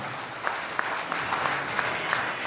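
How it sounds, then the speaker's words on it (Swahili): Audience applause at a TBS accreditation ceremony in Tanzania: steady, dense clapping from a crowd, filling the whole moment with sharp individual claps popping out above the wash. "Isikie makofi ya kutosha."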